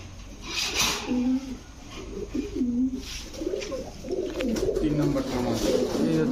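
White pigeons in a bird market, including teddy, Lahori and racer breeds, cooing in soft repeated throaty rolls close by, under and between a man's speech.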